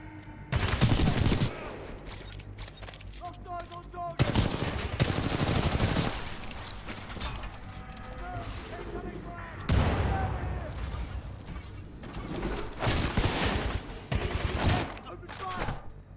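Gunfire in Titanfall 2 breaks out in repeated loud automatic bursts, each a dense rattle of shots lasting a second or two and separated by quieter stretches of combat noise, with a voice talking over parts of it.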